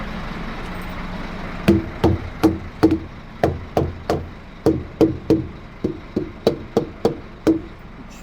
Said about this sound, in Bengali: শুনতেই পাচ্ছ একবার ঠং ঠং করছে গাড়ি পুরো হাওয়া ফুল আছে